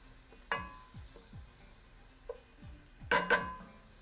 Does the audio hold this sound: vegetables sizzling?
yes